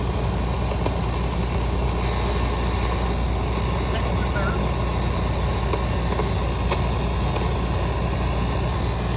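A semi truck engine pulling in third gear heard from inside the cab, a steady low diesel rumble with constant road noise, and someone talking over it.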